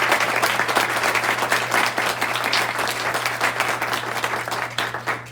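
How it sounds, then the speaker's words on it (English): An audience at a club meeting applauds for Elena, steady dense clapping holding at an even level for several seconds over a low constant hum. "Round of applause for Elena."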